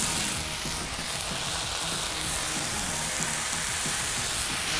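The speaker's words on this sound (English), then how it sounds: "In the meantime, we're gonna get our bacon on here." Bacon sizzles on a griddle with a dense, even crackle that holds steady and fairly quiet for a few seconds, with no voices.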